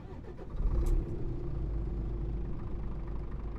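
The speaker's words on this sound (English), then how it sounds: "Let's see how the startup sounds on the inside of this truck here." A truck engine starts up, heard from inside the cab in a trucking simulation game set in Greece: a quick cranking burst, then a low, muffled, steady idle.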